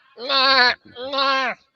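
A human voice imitating a crow's cackle, two drawn-out nasal bleating calls that come out closer to a goat, loud and close.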